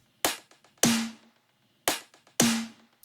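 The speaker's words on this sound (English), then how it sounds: "Just the snares." Isolated snare drums from a music mix: four sharp, crisp cracks in two pairs, each trailed by soft ghost-note taps and a short tonal ring, with silence between, moderately quiet.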